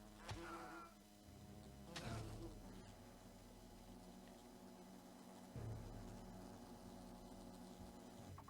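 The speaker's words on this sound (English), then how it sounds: "Kill all the wasps in the picnic area." Faint, steady buzzing of wasps in a picnic area in the game Fable, a soft continuous insect drone with a few louder swells, heard at low level in the background.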